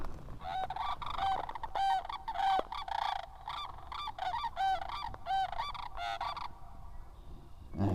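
Canada geese honking outdoors, a flock calling in rapid, overlapping honks that come in bursts over several seconds, close and loud, with no talking.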